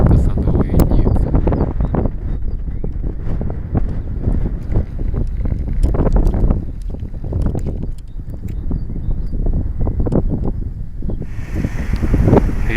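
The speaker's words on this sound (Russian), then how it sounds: "Ветер вообще немыслимый, еще и холодный" Strong, cold wind roars steadily on a mountain hike, buffeting the microphone with constant gusting noise that continues throughout.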